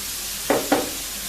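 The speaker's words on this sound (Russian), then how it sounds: "Добавляю перец болгарский." Bell pepper drops into a pan of stewing carrots for a meatless borscht, giving two brief close hissing bursts of sizzle over a steady low frying hiss.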